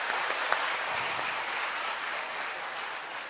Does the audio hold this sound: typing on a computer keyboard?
no